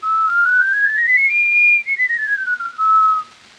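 A toy calliope on an early vintage recording plays a single clear whistling tone that glides up, holds, then slides back down, with brief stuttering breaks near the end and no voices over it.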